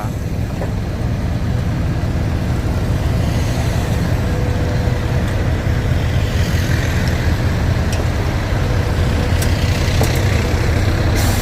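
A LiuGong excavator with a Yanmar engine of about 27 horsepower digging out a road median, heard as a steady, loud engine rumble that continues throughout with occasional faint clanks.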